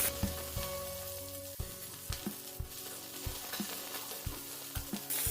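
Chopped onion frying in oil for dum aloo, a steady sizzle broken by repeated stirring knocks and scrapes of a spoon in the pan, close and alone without talk.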